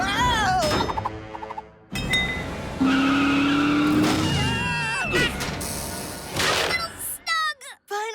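A cartoon monster truck skids and screeches amid thuds, whooshes and tire squeals, with loud, dense layered effects over shouting character voices throughout.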